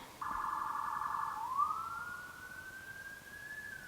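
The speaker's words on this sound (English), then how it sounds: "There's a bunch of sirens" A faint siren wails in the distance, shifting from a rapid warble into a long rising tone, with no talking.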